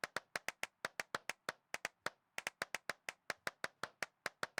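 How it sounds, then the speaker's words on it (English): Hands clap rapidly inside an abandoned church, a long run of sharp, evenly spaced claps that pauses briefly and then resumes at the same quick pace, loud and close with no talking. "I'm clapping real fast."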